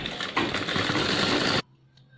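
A sewing machine hums at close range for about a second and a half, stitching the waistband belt of men's formal trousers, then cuts off into near silence.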